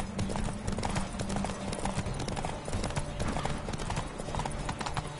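Rapid hoofbeats of a galloping horse in The Witcher 3 pound loud and continuous, a steady clip-clop rhythm layered over busy game sound and music.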